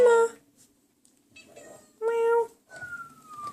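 A small pet cat meows several times in a home sewing room, short tonal calls spaced a second or so apart, close by, with a person talking softly between them.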